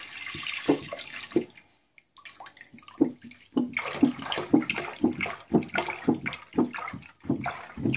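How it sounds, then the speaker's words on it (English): Milk pours steadily into a cooking pot for homemade ricotta or paneer, a gurgling liquid stream with brief pauses, close and fairly loud, while faint voices are heard nearby. "we're now adding the milk to the pot"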